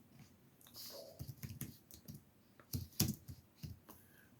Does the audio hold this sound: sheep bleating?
no